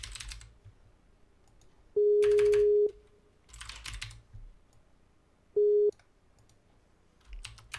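A telephone call tone sounds in two steady beeps, the first nearly a second long and the second shorter, with keyboard typing and clicking around them at a moderate level.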